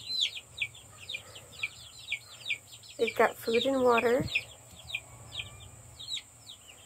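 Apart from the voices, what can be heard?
chickens clucking in coop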